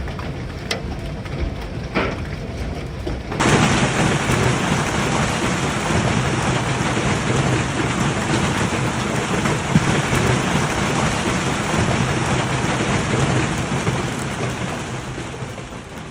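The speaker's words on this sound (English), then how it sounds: "Hail pounded the lake without stopping, making it look like a giant drum being struck by nature with thousands of icy drumsticks." Hail pounds a lake during a storm: after a few quieter seconds, a dense, loud, unbroken roar of impacts sets in and holds steady to the end.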